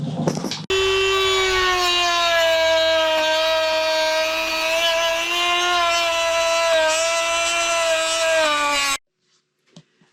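A power tool trims a plastic tail light mask on a Suzuki V-Strom 800DE, a steady loud whining drone lasting about eight seconds, pitch dipping slightly under load, then cutting off abruptly to near silence.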